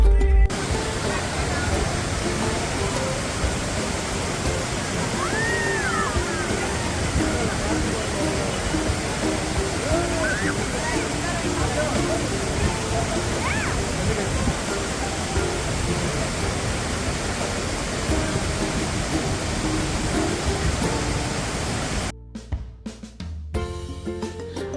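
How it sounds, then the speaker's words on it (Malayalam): Charpa waterfall near Athirappalli sends out a constant broadband roar of falling water that fills the scene from start to finish. Faint birdsong sits in the background, and the sound ends in brief handling noise. "അതിരപ്പള്ളി കഴിഞ്ഞ് നമ്മളിങ്ങ് പോർന്ന് കഴിയുമ്പോൾ കാണുന്ന ആദ്യത്തെ വെള്ളച്ചാട്ടമാണ് ചാർപ്പ വെള്ളച്ചാട്ടം"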